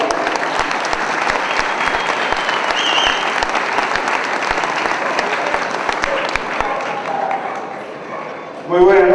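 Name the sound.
audience applause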